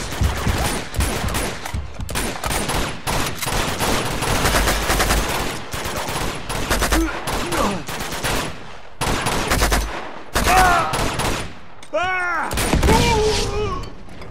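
Uncharted 2 firefight with near-continuous bursts of gunshots and heavy booms, brief gaps between volleys, and spoken voices mixed in toward the end.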